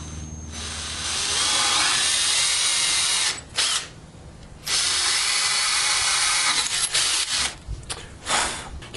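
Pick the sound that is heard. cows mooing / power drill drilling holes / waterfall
power drill drilling holes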